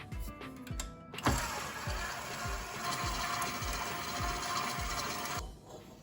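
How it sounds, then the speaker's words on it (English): A stand mixer with a dough hook working flour into sourdough bagel dough, giving a quiet, steady mechanical whir with regular low thumps as the hook turns, running alone for several seconds. "attach it to your mixer and use the dough hook, and we'll gradually mix in this flour"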